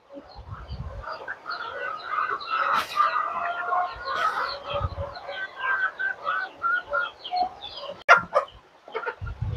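Chickens cluck and chatter in a busy, close flock before feeding, with overlapping calls and occasional louder squawks across the whole stretch; no talk is heard.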